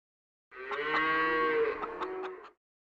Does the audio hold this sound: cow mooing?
yes